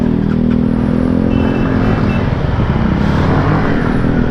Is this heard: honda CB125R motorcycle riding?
yes